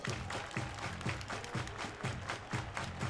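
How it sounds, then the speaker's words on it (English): A baseball crowd at a division championship game claps along in a rhythmic pattern, faint and distant, over a looping beat from the stadium sound system. "Everybody clap your hands."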